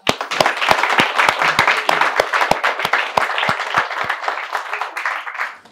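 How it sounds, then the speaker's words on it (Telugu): A small audience at a makeup studio and academy claps for students who finished their course, a few seconds of distinct, fairly close hand claps with some scattered clapping and low crowd murmur. "ఒకసారి మీరు చప్పట్లు కొట్టుకోండి."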